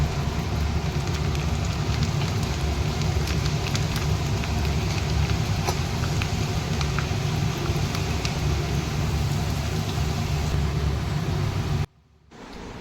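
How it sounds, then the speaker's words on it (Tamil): Garlic frying in hot oil in a pan, a loud, continuous dense sizzle and crackle held close throughout, dropping off abruptly near the end. "நெக்ஸ்ட் இதுலேயே பூண்டு போட்டுக்கணும்"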